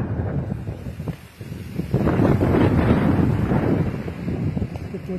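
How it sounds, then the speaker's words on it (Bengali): Strong wind buffeting the microphone outdoors among wide wheat and sunflower fields, loud roaring gusts that swell after a brief lull and stay heavy, no speech. "প্রচুর বাতাস।"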